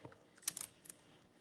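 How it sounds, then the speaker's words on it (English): A few quick, faint clicks of computer keyboard keys being tapped close by in a quiet room, a brief scattered burst of typing. "I'll type them in here."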